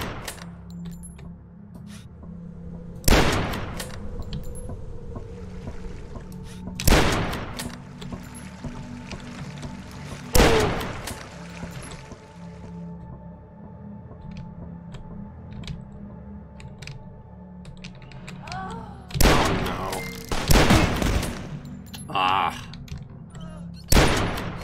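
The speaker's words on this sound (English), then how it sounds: "someone's shooting at me from the other side as well" Enemy gunfire in the retro shooter Dusk cracks out as a few loud, widely spaced shots over a rumbling game backdrop, with a pair of quick shots near the end.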